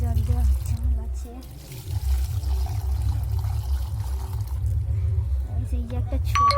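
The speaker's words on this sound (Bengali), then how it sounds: "আমি গাছগুলো জল দিচ্ছি এখন, দেখতে পাচ্ছেন জল দেওয়া হচ্ছে আমার গাছে" Water pours and trickles into potted plants in a steady, close stream, with a low murmur of background sound underneath.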